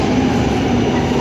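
A metro train pulls into an underground station in Milan, on the line from Loreto toward the Duomo, with a loud, steady rumble and rail hiss that fill the space.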